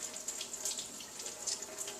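Tap water running in a steady hissing stream over a freshly peeled hard-boiled egg, close and continuous with slight splashing fluctuations, no talking.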